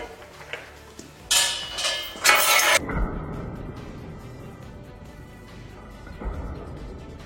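A hammer dropped from a height onto another hammer, giving two sharp metallic clanks about a second apart, followed by a brief rattle and quiet room noise.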